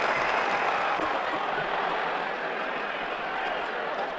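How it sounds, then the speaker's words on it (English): Polite applause from a virtual cricket crowd in Cricket 07, greeting a dismissed batsman walking off to the pavilion in an India vs Sri Lanka T20 match, a steady even wash of clapping throughout. "He's getting a polite round of applause as he makes his way to the pavilion"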